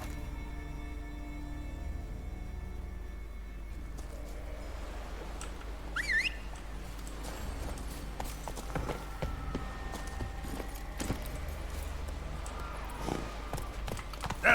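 Roach the horse clip-clops along in The Witcher 3, steady hoofbeats over a constant low ambient rumble, with a few brief whistle-like tones and bird chirps scattered through.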